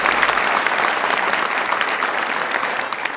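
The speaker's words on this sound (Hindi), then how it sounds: "आपकी जोरदार तालियों के बीच लता है।" A mushaira audience in Hyderabad breaks into loud, dense applause, a steady wash of many hands clapping close and full for the whole stretch, with no voices over it.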